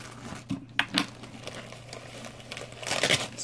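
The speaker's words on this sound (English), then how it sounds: "I'm just going to get this out of this package." A duct-taped envelope being pulled from its packaging, with close crinkling and rustling plastic, a few sharper crackles and tugs, and no talk.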